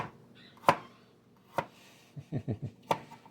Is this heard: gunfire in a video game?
no